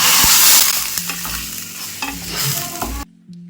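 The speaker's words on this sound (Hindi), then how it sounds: "तो हम यहाँ पर लगा रहे हैं रायते का तड़का। इसमें हमने डाल दिया घी" Whole spices with curry leaves and asafoetida sizzle hard in hot ghee for a raita tempering, a loud close crackle with stirring scrapes that fades before the sound cuts off near the end.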